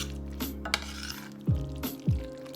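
Vegan mock chicken pot pie filling with scallion and sun-dried tomatoes being stirred in a pot, a few close scraping and clinking utensil strokes against the pan over a soft sizzle.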